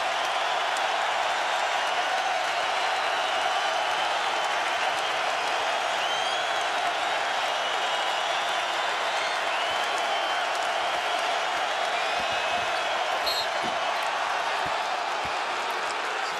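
A basketball arena crowd during an Indiana versus Syracuse college game roars and cheers steadily, a dense wall of applause and shouting that holds loud and unbroken throughout.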